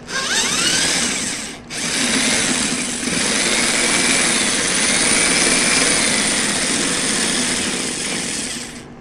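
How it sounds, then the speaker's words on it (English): A power drill strains continuously under heavy load for several seconds while working a mushroom cultivation batch, loud and close, with a brief cutout near the start before it resumes its steady whine. "Yeah, it's going to burn my drill up trying to get any more than that."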